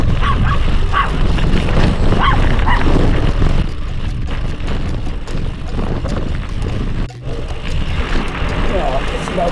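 Loose dogs bark and yip repeatedly amid road noise near Cadaqués on the Costa Brava, with a person talking over the commotion.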